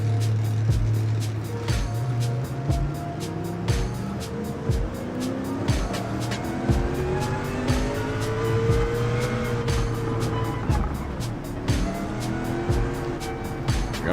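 A damaged Mercedes CLK race car in Gran Turismo 7 roars steadily, its engine pitch climbing and dropping through gear changes, loud and continuous for the whole stretch.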